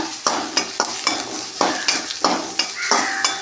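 Small onions and crushed whole garlic stir-fry in a pan for a tomato and okra tamarind curry, a close sizzle punctuated by about a dozen regular spatula scrapes and knocks against the pan.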